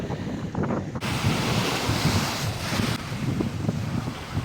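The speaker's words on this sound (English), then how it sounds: "And a very cold day with a calm sea." Calm sea beside County Antrim Yacht Club on a cold day, a steady broad wash of gentle waves mixed with heavy wind buffeting the microphone, continuous and fairly close with no voices.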